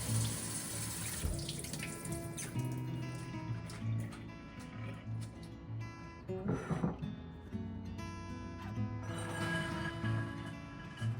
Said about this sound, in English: You're simply just going to drain and rinse your beans in cool water.